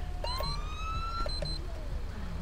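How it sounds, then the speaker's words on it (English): Police car siren in a Grand Theft Auto V police mod, its rising and falling wail sweeping steadily over a low engine rumble for the full stretch, close and continuous. "Gonna shut the siren off."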